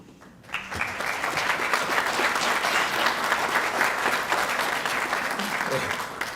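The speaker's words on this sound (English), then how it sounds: "Normally people don't clap when I come onto the stage." An audience at an ROTC officer commissioning ceremony breaks into sustained applause, a dense, even wash of clapping from a sizable crowd in a hall that lasts several seconds before easing off.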